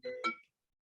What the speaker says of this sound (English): My phone ringing through.